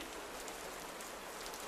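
Steady rain falling on a surface, a dense, even hiss with scattered drop patter, continuous and moderately quiet throughout with no voices.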